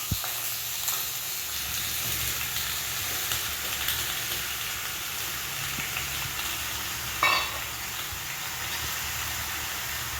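Cut potatoes sizzle steadily in a hot pan with a steamy, bright hiss, sautéed for a Gujarati dry potato sabzi; a brief scrape of stirring stands out near the end.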